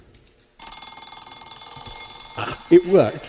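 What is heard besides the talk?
alarm clock ringing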